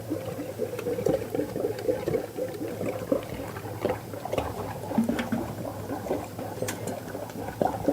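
Liquid mocha ice cream mix is poured steadily, a continuous watery gurgle and splash with no pauses, at close range.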